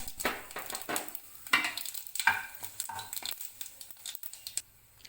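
Cumin seeds, cinnamon sticks, a cardamom pod and cloves hitting hot oil for an egg gravy, a crackling sizzle with soft popping and stirring scrapes that fade toward the end.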